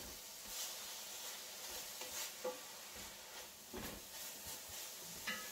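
A quiet, steady sizzle of garlic frying with peppers in a pan, with occasional soft pops and stirring scrapes.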